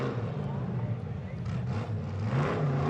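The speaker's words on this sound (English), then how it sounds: "missed, hit neutral, did a little rev drop" An off-road racer's engine in a King of the Hammers 2018 shootout revs and drops as the driver misses reverse and hits neutral, heard a little distant amid crowd noise and commentary.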